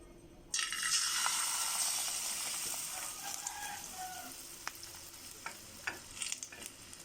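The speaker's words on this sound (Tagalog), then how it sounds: "Prito na natin ang ating fries." String bean fries drop into hot oil with a sudden loud sizzle that settles into steady frying crackle, with occasional pops and scrapes of stirring.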